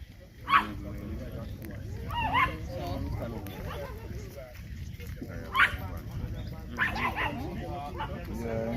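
A dog yips and barks in a few short bursts amid ongoing conversation, with whimpering sounds mixed under people talking nearby.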